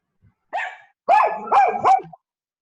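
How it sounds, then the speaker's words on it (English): A dog barks four times, a short bark followed by a tight run of three, loud and close, with a faint tiny sound just before and silence around them. "Whoever's got the doggy, if you could just mute that"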